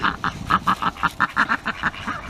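Farm ducks quacking in an agitated run of about a dozen sharp, evenly spaced calls, loud and close, with no other sound between them.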